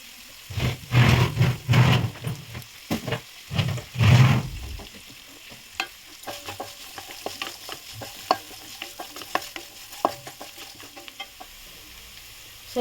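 Mustard seeds and curry leaves frying in hot oil for broken-rice upma with moong dal, starting with several loud pops and bursts, then settling into a scattered crackle and light sizzle.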